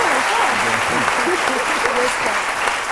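A crowd applauds a visiting official at a scrapyard, a continuous, dense clapping wash that stays loud and even throughout, with a voice talking over it.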